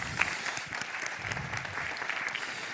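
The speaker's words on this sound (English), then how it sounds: "Big round of applause, please, for Carlos." Audience applause for Carlos on the Mar Rojo Stage, steady clapping of a moderate crowd heard at a distance and fairly quiet throughout.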